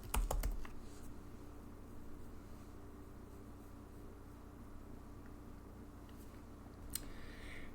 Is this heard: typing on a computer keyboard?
yes